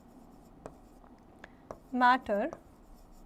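Pen or marker writing on a board during a chemistry lesson, with a few faint scratchy strokes, then a word spoken by the teacher.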